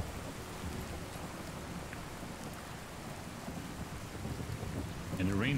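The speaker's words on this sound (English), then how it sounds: "And the rain is really heavy." Heavy rain and thunder in the video game Fallout 4, a dense continuous hiss of downpour with low rumbling underneath, steady throughout and louder toward the end as a voice starts speaking.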